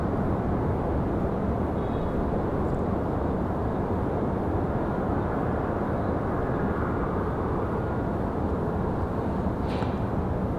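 A Southwest airliner taxis out toward runway 23 left for departure at Raleigh-Durham, its steady engine rumble a broad, even wash heard from a distance without pause.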